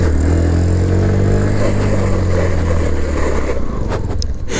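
A Bajaj Platina 110 motorcycle with ABS brakes hard from a good speed on the road. The engine note drops steadily under constant road and wind rush, ending in a brief scraping sound.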